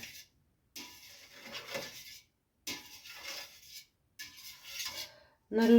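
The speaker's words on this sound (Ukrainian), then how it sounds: "Нарізаю спочатку ножом вертикально і потім горизонтально" A knife cutting Imeretian goat milk cheese, close and quiet, in short scraping and rubbing strokes separated by brief silences, with a faint clink at the end.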